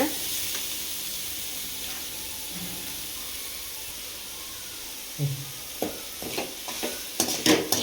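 A spoon works through fish puttu mixture in a pan with soft scraping and stirring, quiet at first, then a few sharper clinks and scrapes toward the end.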